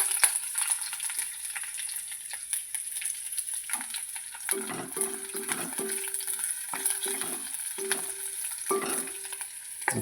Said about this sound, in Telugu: ఇది లవంగ మొగ్గ వేసాను ఆయిల్లోను.